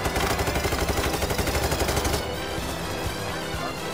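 Rapid automatic gunfire in the video game Payday 3, a loud dense burst of shots lasting about two seconds before cutting off into a lower background din.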